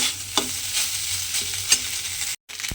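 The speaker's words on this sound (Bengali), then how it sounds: "এইভাবে ঘিয়ের মধ্যে ভাতটাকে একটু ভেজে নিতে হবে" Leftover lunch rice fries in ghee in a pan over a low flame, giving a steady close sizzle broken by a few sharp stirring scrapes.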